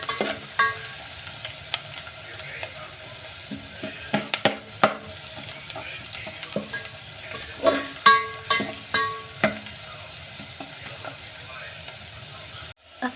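Onions frying in a pan as part of a spaghetti and meat dish, a soft steady sizzle broken by repeated scraping and clacking of a utensil, fairly quiet and close.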